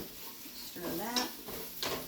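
A utensil stirring food in a pot on a kitchen stove, a few scraping, clinking strokes against the metal close by, quiet and brief.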